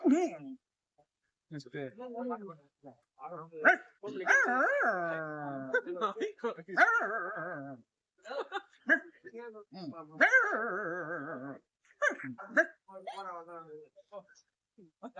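A person mimics a dog, producing a series of barks, yips and whiny howls in bursts with short pauses between them.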